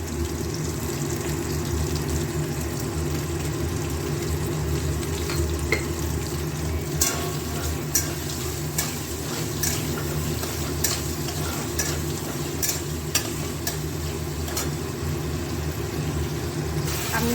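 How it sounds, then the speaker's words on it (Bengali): White cumin and tomato with salt fry in a pan, a steady, even sizzle running throughout with occasional light clicks of a stirring utensil. "সবগুলো এবার একটু ভাজবো।"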